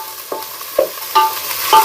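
Onions sauté in a pan, with four sharp stirring scrapes against the metal over a faint sizzle, close and fairly loud, with no voices.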